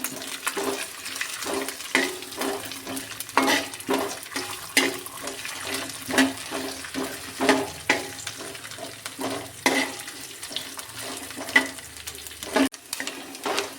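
Coconut pieces stirred in a hot pan over a medium flame for Vishu ada pradhaman, a rhythmic series of scraping strokes over a steady sizzle.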